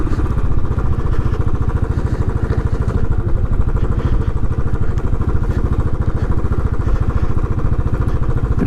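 A Royal Enfield Classic 500 single-cylinder engine thumps loudly and steadily while the motorcycle rides off road, a close, continuous rhythmic chugging.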